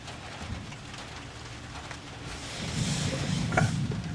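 Steady rain patters on a surface, growing heavier and louder toward the end, with no voices.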